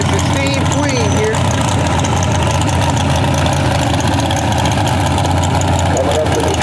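A pulling tractor called the Sniper idles loud and close at an Anne Arundel County fair tractor pull, a steady low heavy-engine rumble with a faint voice over it.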